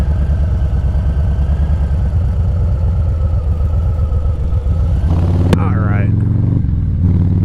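A motorcycle engine idles with a steady close rumble while someone talks over it, then the throttle blips once into a rising and falling rev before settling back to idle.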